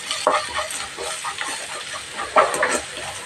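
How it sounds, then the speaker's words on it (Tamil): Chili powder and turmeric sautéing in a pan for mango rice, with a soft continuous sizzle and light scraping stirs recurring through the short stretch, close and moderately loud, no talk. "இது 2ஐயும் சேர்த்து நம்ம லைட்டாக அந்த பச்சை வாசனை போகிற வரைக்கும் வதக்கிக்கலாம்."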